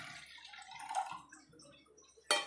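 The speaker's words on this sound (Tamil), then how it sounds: "புளியை கரைச்சி வச்சுருக்கேன் வடிகட்டி அதை ஊற்றிக்கிறேன்" Strained tamarind water pours and trickles steadily into a pot of rasam for a couple of seconds, ending in a sharp clatter.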